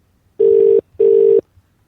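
Two steady telephone tones, each about 0.4 seconds with a short gap between them, sound loud and close on a line during a telecanvassing call to Glasgow, with no talking over them.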